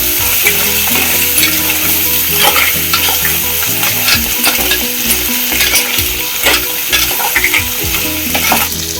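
Crab curry masala being stir-fried in a pan, Malvani style, makes a loud continuous sizzle, with repeated rhythmic scraping and clatter from stirring throughout.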